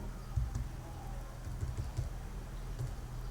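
Keys clatter on a computer keyboard in quick, uneven bursts of soft clicks, close and fairly quiet, with no talking over them.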